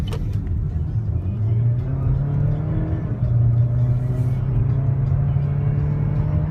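Small 4-cylinder engine of a 2014 Chevrolet Malibu pulling steadily from inside the cabin, a continuous low drone with rising engine tones and road rumble, no voices.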